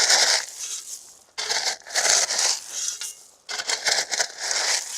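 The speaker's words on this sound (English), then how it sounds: "this is gonna be a diabolical amount of shoveling" A shovel scrapes and crunches through loose gravel at a house foundation build site in three long, gritty strokes, with short pauses between them.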